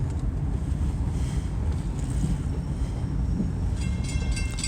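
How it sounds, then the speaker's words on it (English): A CSX freight train rolls through downtown McKeesport, a steady, close, broadband rumble of wheels and cars with light wind noise on the microphone, and no talking. "I'm in time to see a train."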